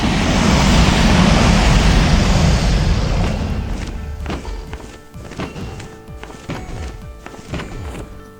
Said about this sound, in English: the dragon flies away